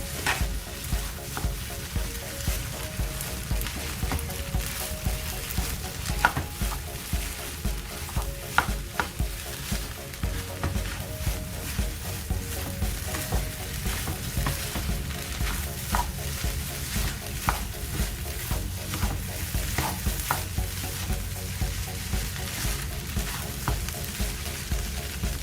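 Corned beef fried rice with egg is stirred in a frying pan, producing a long, steady run of rhythmic scraping and tapping strokes over a constant low sizzle, close and moderately loud.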